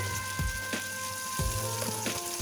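Steady crackling sizzle of giant taro pieces frying in hot oil in a wok, with soft clinks and scrapes from a utensil now and then; no voices.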